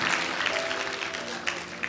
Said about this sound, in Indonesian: Tepuk tangan buat song leader kita ini ya